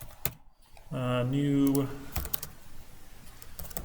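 Keys clack sharply on a computer keyboard while C# code is typed, scattered taps and short bursts around a man's brief spoken word.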